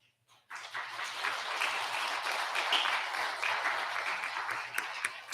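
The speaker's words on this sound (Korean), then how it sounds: "네, 박수하겠습니다" A church congregation at a Sunday morning service bursts into applause after near silence, brisk clapping from many hands that holds steady for several seconds, with a few sharper individual claps standing out near the end.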